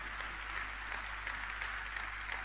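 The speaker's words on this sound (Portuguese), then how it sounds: "um aplauso." An audience at a live concert in a sports pavilion gives a faint, distant, steady patter of applause for a cellist, with a low electrical hum running underneath.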